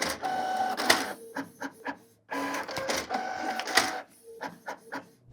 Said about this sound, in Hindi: तो ब्लैक एंड व्हाइट प्रिंट को अब मैं शुरू करता हूँ।